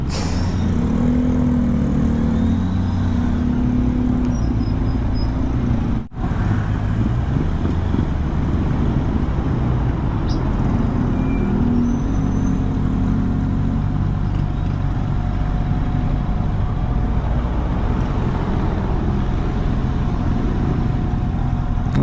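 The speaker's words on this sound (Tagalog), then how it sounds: "at sobrang traffic" Heavy road traffic in the Philippines on a rainy day: cars, trucks and buses rumble and idle nearby in a constant loud drone, with occasional engine surges and air brake hisses.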